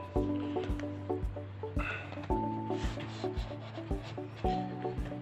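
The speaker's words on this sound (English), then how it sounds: "I'm sorry if you're hearing something dripping because it's actually raining right now." Rain drips outside during a phone unboxing, landing as regular soft taps roughly twice a second, each with a faint ringing tone, close and fairly quiet, with no voices.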